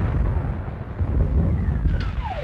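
Distant artillery guns of an army fire in a continuous heavy rumble of low booms rolling together, with no distinct single shots.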